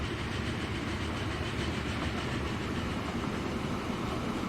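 Freight trains carrying crude oil roll in the Transport Fever 2 video game, a dense, steady rumble of wagons with faint clickety-clack, loud and continuous without talk.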